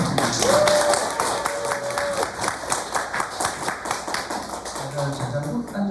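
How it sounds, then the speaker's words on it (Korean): An audience at a business group seminar applauds a speaker, close and fairly loud clapping with distinct individual claps, steady across the whole stretch with a few voices underneath. "육종서 사장님께 다시 한번 큰 박수 부탁드립니다"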